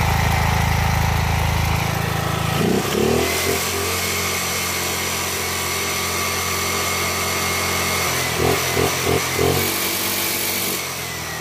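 A petrol generator engine runs loudly and steadily under load, its pitch shifting as the throttle changes, with brief surges and dips in speed. The engine is close and no voices are heard.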